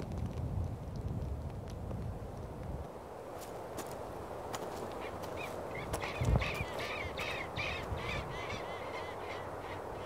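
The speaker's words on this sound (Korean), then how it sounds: "저게 남극 스쿠아라고 일종의 도둑갈매기입니다." Brown skuas, the Antarctic skua, calling on the Antarctic coast near penguin colonies: a run of harsh, repeated cawing cries at middle distance over steady wind and low ambient rumble.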